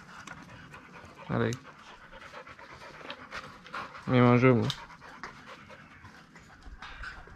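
A small dog pants in two short, loud bursts close by, over a steady low hum of background noise, while someone speaks to it.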